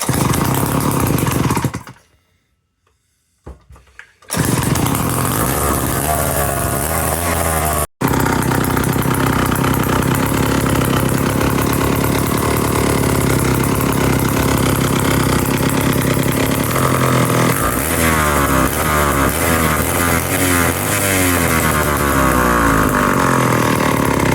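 A restored Sears chainsaw engine runs loud and close, a raspy buzzing drone that cuts out briefly near the start, then revs and settles through a long stretch of rising and falling pitch.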